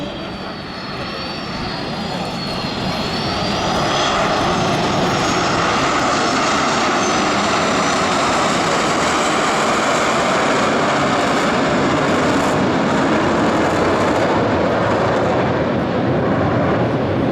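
Three military jets, an MB-326, MB-339 and P-346, roaring overhead at an air show, a broad loud rumble that swells and holds steady, with a faint high whine threading through.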